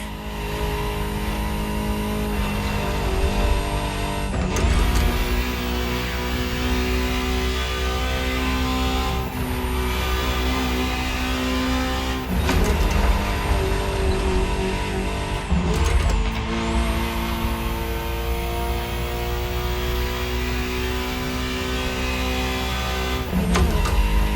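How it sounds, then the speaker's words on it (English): A powerful Ferrari supercar engine roars steadily, revving up and easing off several times with sharp shifts in pitch, loud and close throughout. "Just listen to the car you're driving."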